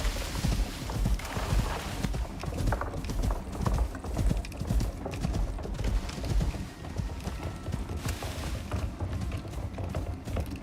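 Creatures the size of horses gallop in the survival video game Icarus, a steady run of thudding clip-clop hoofbeats that carries on for several seconds at close range with no voices.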